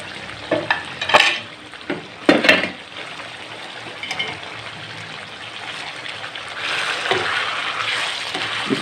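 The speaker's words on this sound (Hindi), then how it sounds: "इसको अच्छी तरीके से इसमें मिक्स करेंगे" A spoon stirs spices into chicken karahi in a hot pan, scraping and sizzling with a few sharp clatters early on, then settling into a steady close fry.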